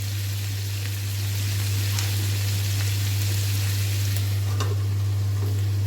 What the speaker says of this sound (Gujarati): ટામેટાં અને ડુંગળીને ચડવા દઈશું પહેલાં।